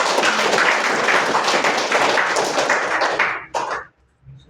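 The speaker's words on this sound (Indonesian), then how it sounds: "tepuk tangan untuk" Students in a classroom clap together in a loud, close burst that holds steady for about three seconds, then breaks up into a few trailing claps and stops.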